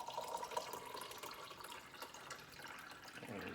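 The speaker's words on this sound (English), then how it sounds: "So we're going to pour our concoction in" A cocktail mixture for a Big Yellow drink is poured into a glass over a layer of honey, a soft, close trickle that runs steadily for a few seconds at low volume.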